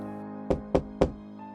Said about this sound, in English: he's going to sneak over to Cerebrin's room and gently knock on the door